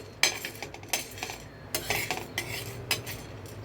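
Dal dry-roasting in a pan while a metal spoon stirs and scrapes it, giving irregular light clinks and scrapes over a faint background, with no talk.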